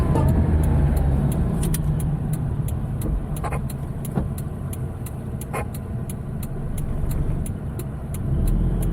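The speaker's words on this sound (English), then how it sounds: "And you can heel toe downshift because the pedals are close enough together." A car engine held at steady load through a heel-toe downshift, a continuous low rumble with a few brief revving blips and faint clicks, heard close and alone with no talk.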